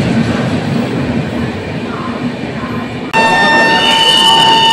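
The 12102 Gyaneshwari Express pulls away from a station, a broad rumbling roar of rolling stock that jumps louder partway through with a high whine and buzzing tones over it.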